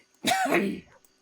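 A single short, harsh cough or throat-clearing burst, close and fairly loud, lasting about half a second in an otherwise quiet moment.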